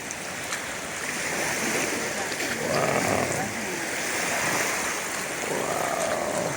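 Floodwater from Hurricane Helene rushes and churns steadily over a road in a continuous roar, with occasional swells and splashes rising and falling over a few seconds.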